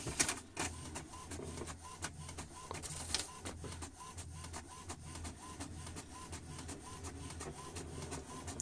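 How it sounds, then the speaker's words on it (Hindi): An HP ink tank printer making a black and white photocopy: steady mechanical whirring with a regular ticking pulse and faint feed clicks, running quietly on its own. "तो अभी हम black and white photo copy करेंगे इधर से"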